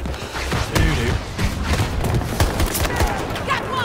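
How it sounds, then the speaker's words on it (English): Shotgun fire in a first-person shooter game, with repeated loud sharp blasts mixed into a busy battle of other gunfire and booms, fairly close and dense. "Shotgun."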